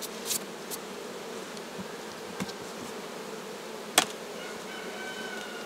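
Buckfast honeybees swarm around an opened hive, producing a faint, steady hum with a few brief louder buzzes as single bees fly close.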